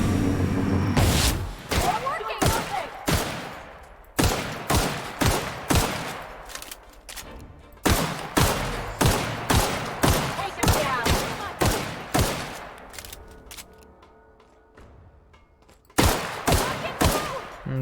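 Gunfire in the video game The Outer Worlds, loud sharp reports in rapid series with short gaps, each shot's boom decaying quickly, the shots coming in bursts of several, with a voice speaking faintly at times.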